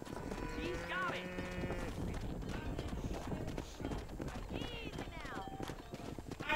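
Cattle being herded down a road alongside horse hooves in the Western game Red Dead Redemption, with steady hoof clopping, occasional lowing and brief animal calls over a dense ambient bed, and people talking throughout.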